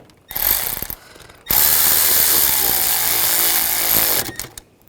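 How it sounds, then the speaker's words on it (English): A bolt on the intake bracket of a 2002-2006 Honda CR-V 2.4L being tightened: a short mechanical burst, then a loud, steady whirring run of about three seconds, close by. "I'm going to attach that bolt. There it is. And we'll tighten that down."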